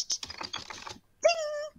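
A typewriter clacking out a quick run of keystrokes close up, then the carriage-return bell rings out clearly and lingers.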